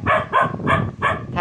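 At night in a windy cemetery, a dog barks in four quick, sharp, evenly spaced yaps that sound fairly close, with no talking.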